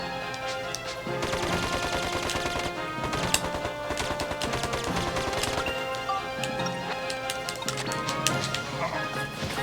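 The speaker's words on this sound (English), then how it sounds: "I could just switch to my machine gun and switch back." A machine gun fires in the Dark Cloud 2 video game, rapid bursts of shots repeating throughout over busy game music and effects, with no one talking.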